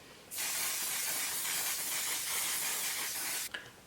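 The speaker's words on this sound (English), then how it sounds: "I'm gonna use the One Size setting spray, and I'm just gonna set my entire face" A steady hiss of One Size setting spray sprayed on a face, close to the mic, runs for about three seconds and then stops abruptly.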